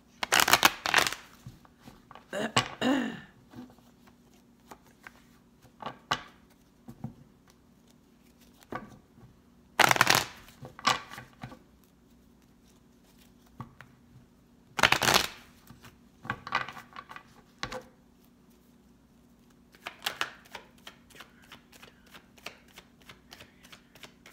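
Tarot cards are shuffled by hand in repeated bursts of riffling and flapping, separated by quiet pauses and softer taps, close and fairly clear with no talking.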